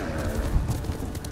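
Rhythmic clip-clop of horse hooves at a steady trot in the video game Ghost of Tsushima, close and clear, with no speech.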